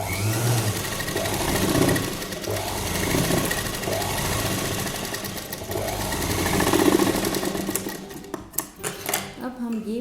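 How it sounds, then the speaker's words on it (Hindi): A sewing machine runs steadily through fabric, its rapid mechanical stitching chatter close and prominent, while someone talks over it throughout. "अब हम यहाँ से इसको ऐसे रखते हुए यहाँ पर एक सिलाई लगा लेंगे।"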